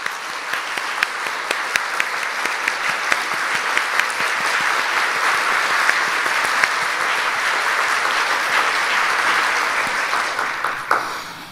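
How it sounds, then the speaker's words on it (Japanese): Sustained applause from a seated audience at a shogi title inauguration ceremony for the 94th Kisei, a dense steady roar of many hands lasting throughout and tapering at the end. "大きな拍手をお願いいたします。"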